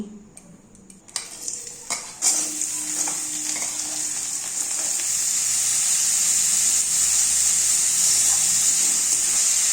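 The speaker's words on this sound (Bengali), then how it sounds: "তেল গরম হয়ে গেছে এবার দিয়ে দিচ্ছি পেঁয়াজ কুচি গাজর কুচি আলু কুচি লঙ্কা কুচি" Chopped onion, carrot, potato and chili dropped into hot white oil in a wok, a few clattering impacts, then a loud burst of sizzling that settles into a steady, intense hiss with faint stirring.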